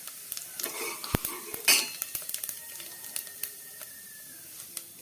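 Cumin seeds dropped into a ladleful of hot oil for a tadka, in a pan for a chana dal and pumpkin sabzi, give a short soft sizzle broken by close metallic clinks and scrapes of a spoon against the pan.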